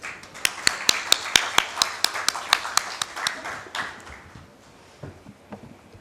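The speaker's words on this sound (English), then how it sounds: "Big round of applause, please." Audience applause at a seminar on taxation and dispute resolution, heard as a burst of sharp, distinct hand claps from a small group that fades out after about four seconds into quiet room noise.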